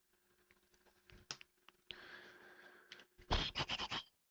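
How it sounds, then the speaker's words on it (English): A right shift keycap is fitted back onto a Keychron keyboard: faint scattered clicks and a scraping rub, then a quick cluster of sharp plastic snaps and clacks as the key seats. "Let me add right shift back to my keyboard"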